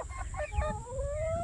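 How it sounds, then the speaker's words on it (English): A big rooster among Silkie and Sussex chickens gives a short run of clucking calls with one rising, drawn-out note, fairly close, over low farmyard rumble. "It's my big original rooster"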